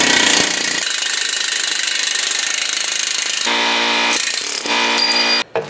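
A pneumatic air hammer rattles rapidly and continuously up close, knocking out a bushing on a Ford Focus rear trailing arm, its hard metallic hammering changing pitch near the end before cutting off abruptly.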